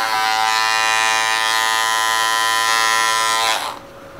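An Andis Master cordless hair clipper runs with a steady, close, bright electric buzz rich in overtones for about three and a half seconds, then cuts off, leaving faint room noise.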